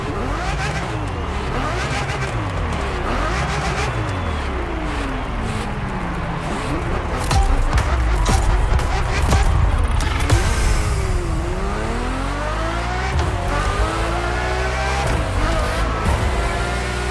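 Ferrari F50 engine in The Crew Motorfest, revving hard with rising and falling pitch sweeps through gear changes, loud and close, with a brief skid-like burst in the middle.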